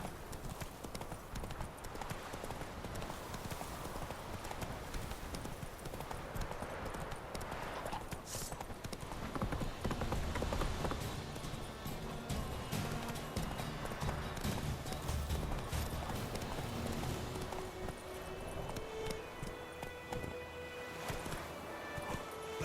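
Horse galloping in The Witcher 3, with steady rapid clip-clop hoofbeats running throughout, fairly loud and close, under game music and ambience.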